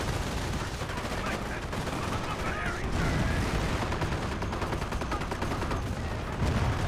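Sustained gunfire from Rangers and other units in a Company of Heroes battle, with rapid machine-gun bursts and rifle shots rattling continuously, dense and mid-distance, under an occasional voice.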